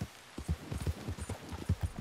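Horse hooves clop in an even trotting rhythm in the Western video game Red Dead Redemption 2, close and moderately loud with steady repeated beats and no talk.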